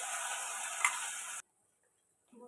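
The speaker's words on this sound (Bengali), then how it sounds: "এদিকে মশলাটা পেস্ট হয়ে গিয়েছে, এবার মা এগুলো তেলে দিয়ে দিচ্ছে।" Spice paste dropped into hot oil gives a loud, dense sizzle that cuts off abruptly partway through, followed by near silence and faint clinks.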